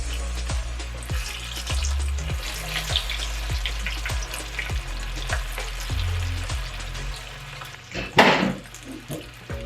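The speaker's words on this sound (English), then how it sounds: "So I'm gonna get into frying the rest of these." Coconut shrimp coated in panko and coconut fry in hot oil, a close, steady sizzle with regular crackling pops about every half second, then a brief louder burst of spattering near the end.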